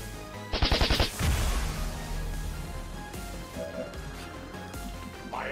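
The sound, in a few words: gunfire in video game X-Com 2 War of the Chosen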